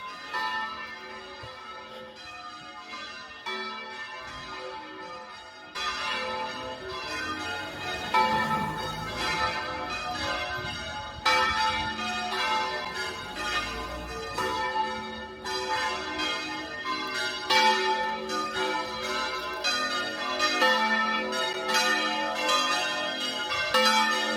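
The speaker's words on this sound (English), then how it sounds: "the bells are going into one, as it's a big day today, going on a bit longer than normal" Church bells in Torrevieja, Spain, peal continuously and loudly on a feast day, several bells overlapping in a dense, ringing cascade that swells and layers without pause for the whole stretch.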